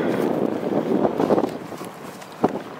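Strong winter wind blowing outdoors in Alpena, a loud rushing roar buffeting the microphone steadily with gusty swells and a brief thump near the end.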